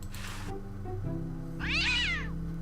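A cartoon cat in the Day of the Tentacle Remastered adventure game gives one clear, drawn-out meow near the end, preceded by a brief breathy noise, over steady game background music.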